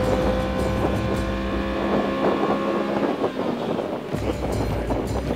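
A Honda S600 engine revs high toward nine thousand rpm, a steady, loud mechanical drone with harmonic whine and wind buffeting over it, continuous throughout.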